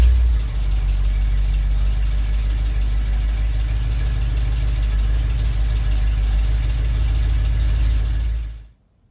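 A 1970 Ford F250 pickup truck engine rumbles at a steady low idle for several seconds, then cuts out abruptly into silence.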